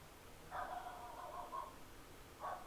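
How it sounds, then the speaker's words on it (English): Pet dogs bark indoors, faint and somewhat distant: a short run of yapping barks, then a pause and a brief second burst. "My dogs are going nuts."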